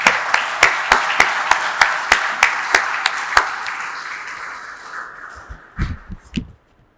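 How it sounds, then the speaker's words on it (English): A lecture audience gives a short round of clapping for the speaker at a memorial lecture. The claps come as a regular run of sharp, separate hits that fade out, followed by a few low thumps. "may I request you all to give a round of applause to our speaker"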